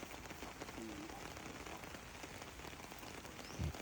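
Light rain pattering steadily on a garden home outdoors, a soft continuous hiss with faint drips, quiet throughout.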